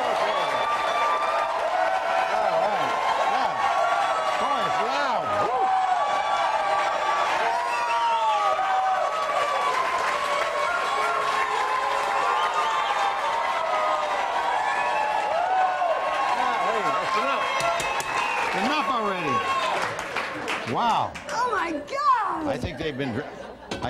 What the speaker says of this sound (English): let's have a nice round of applause for the stars of the show tonight